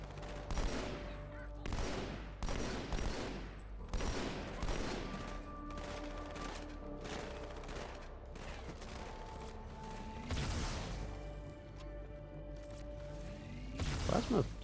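Plasma pistol shots and other weapon fire from the video game Halo 2 come in a rapid, irregular cluster of bursts with crashes and booms, close and loud, mixed with game sound effects.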